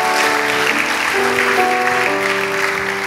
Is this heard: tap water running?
no